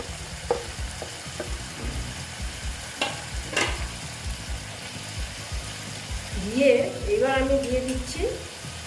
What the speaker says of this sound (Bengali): আমার মশলাটা প্রায় ভাজা হয়ে গেছে এখন আমি হ্যাঁ এই যে চাল কুমড়োগুলো সব দিয়ে দিচ্ছি